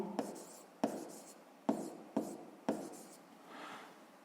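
Hand writing during a sixth-grade math exercise: a pen or pencil makes five sharp tapping strokes with brief scratchy rubs between them, fairly close and soft, with no talking.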